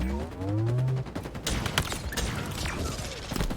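Rapid gunfire in a multiplayer shooter video game, bursts of shots mixed with a rising electronic tone and clattering impacts, close and fairly loud.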